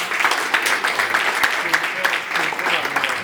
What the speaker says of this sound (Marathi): जोरात टाळ्या झाला पाहिजे